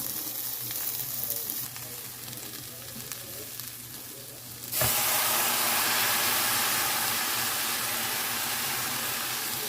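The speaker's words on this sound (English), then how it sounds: "It's over here just boiling away." Steady broadband sizzling and bubbling from a pot of tomato and heavy-cream sauce boiling, growing suddenly louder and brighter midway and then holding that level, with no talking.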